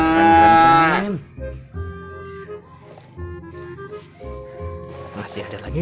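A single long cow moo from a toy rings out up front, followed by quieter toy-like tones and clicks.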